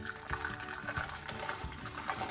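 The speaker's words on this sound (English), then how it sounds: "And just pour it in your funnel." Eggnog poured through a funnel into a bottle, a steady low liquid trickle and gurgle running throughout with no talking.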